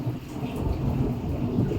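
Steady rain falling after a windstorm, with a low rolling rumble of thunder beneath the dense wash of drops, continuous and fairly close.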